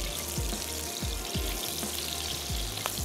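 Garlic ginger paste, yogurt, salt and green chilli hitting hot oil in a karahi, a steady sizzle and frying hiss with several stirring scrapes, close and alone.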